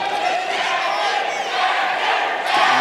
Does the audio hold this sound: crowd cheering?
yes